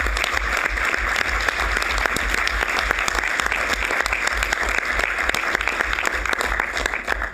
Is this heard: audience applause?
yes